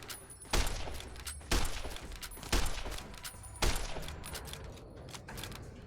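Gunfire in the video game Fallout: New Vegas, four loud, close shots spaced about a second apart, each with a short booming tail over low background noise.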